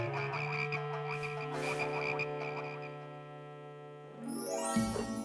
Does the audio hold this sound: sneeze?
no